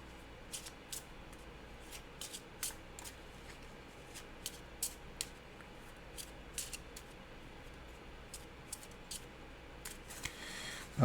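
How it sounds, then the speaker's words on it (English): Playing cards are shuffled during a solo dungeon-crawl board game, a series of soft, quick riffling and tapping bursts repeating steadily at close range over low room noise, with no talking. "we're going to shuffle and draw"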